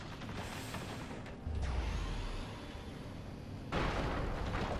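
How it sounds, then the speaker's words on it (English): Two heavy booming blasts in the video game Destroy All Humans! remake, the second louder, each followed by a rumbling roar as the explosions echo out; no talking. "Look at those explosions."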